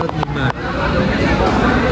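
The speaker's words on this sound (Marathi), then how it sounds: "खूप म्हणजे खूपच गर्दी आहे." Crowd noise at the Maha Kumbh in a packed eatery, with dense overlapping chatter and bustle filling the space and a few sharp clatters near the start.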